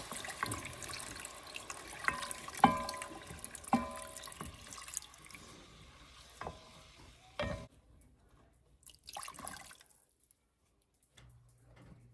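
Chicken broth is stirred into broccoli soup in a pot, with faint liquid splashes, drips and spoon clinks in irregular bursts, followed by a quiet pause and a low hum.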